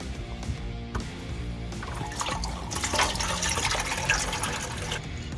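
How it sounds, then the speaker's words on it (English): Engine oil draining from a Gen 2 Ford Raptor pickup into a rolling drain pan, a steady close pour of liquid that strengthens midway and runs continuously with a low hum beneath it. "You can just unscrew this. Start draining your oil."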